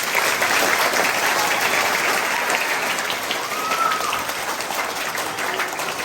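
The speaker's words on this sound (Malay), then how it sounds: "Beri tepukan kan sidang." A seated gathering at a community program and petanque court opening in a Malaysian school claps steadily, a dense, continuous wash of applause from many hands.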